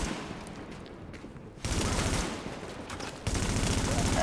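Gunfire in the video game The Division comes as a sustained, crackling volley of rapid automatic shots. It grows sharply louder twice as more weapons join in.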